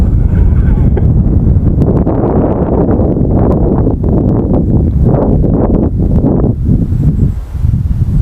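Wind blows hard across the microphone while a model Hawker Tempest aircraft flies, a loud, constant rumbling buffet that fills the whole stretch, with no talk.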